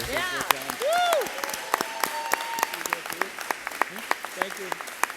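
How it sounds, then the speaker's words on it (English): An audience at a school board meeting breaks into applause with a rapid patter of clapping, a whoop and voices mixed in, then the clapping thins out into scattered claps. "let's give them all a round of applause"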